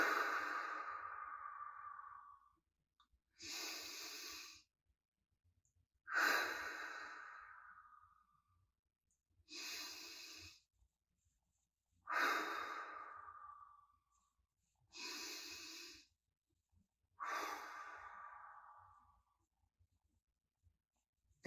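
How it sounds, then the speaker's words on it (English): Slow, paced breathing in a calming exercise, about seven long airy breaths with short pauses between them, each breath swelling and then fading, close and quiet with nothing else heard. "You can inhale and hold for 4, and exhale and hold for 4."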